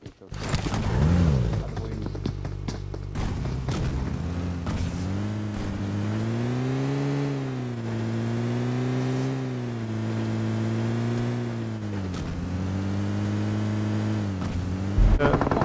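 Engine of a vehicle driving in PUBG Mobile, a steady droning hum rising and falling in pitch as it revs, continuous and fairly loud throughout, with players talking over it.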